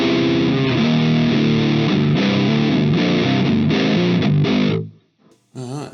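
Electric guitar through a Belcat distortion pedal, with the distortion and tone turned fully down, plays a steady, dense riff for nearly five seconds, then cuts out. A brief warbling phrase follows after a short gap.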